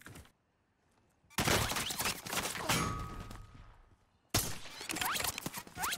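Sniper gunshots ring out in a video game: sharp, loud cracks with shattering tails come in two bursts separated by near silence, and each echoes and decays over the following seconds.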